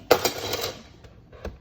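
A Big Shot die-cutting machine being set down on a crafting table, a sharp clattering thud with rattling, then a couple of lighter knocks.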